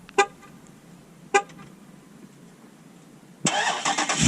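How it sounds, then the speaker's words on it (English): A 2017 Dodge Charger SRT 392 with a 6.4L V8 is remote-started from its key fob. Two short, sharp chirps sound first, then after a quiet pause the engine catches and breaks into a loud, close roar. "The car goes ahead and starts up."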